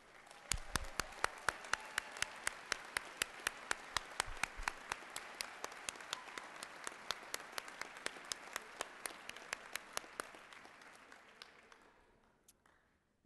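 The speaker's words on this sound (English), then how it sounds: "Will the spouses please stand for our appreciation and applause?" Commencement audience at a law school graduation applauding as spouses stand, a sustained round of clapping with sharp individual claps standing out, tapering off toward the end.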